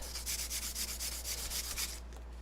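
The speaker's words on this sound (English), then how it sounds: "I'm going to give it a light sanding." Sandpaper rubs back and forth across a painted surface in quick, regular strokes, close up, then stops near the end over a low steady hum.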